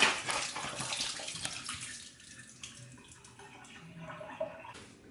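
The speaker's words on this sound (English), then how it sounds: "all the excess cleanser, all the excess water that's left in there." Water and cleanser splash and slosh as beer bottles are shaken out over a sink, a loud burst at first fading to lighter trickles and drips.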